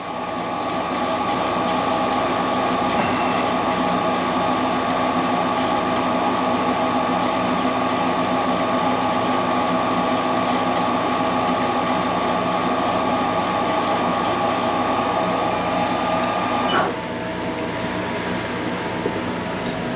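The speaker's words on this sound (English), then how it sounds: "I'm running a spindle in reverse here, as you can see, to try to start on the thread and come" A machine spindle runs in reverse while a file deburrs the last thread on a toe clamp part. It gives a steady, loud mechanical hum with a constant whine, which shifts and eases near the end.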